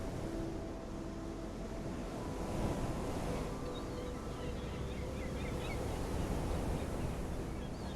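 Ocean surf rolls onto a beach in a steady, faint wash, with breeze and wind rumble over it the whole time.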